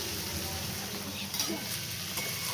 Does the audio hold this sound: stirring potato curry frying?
yes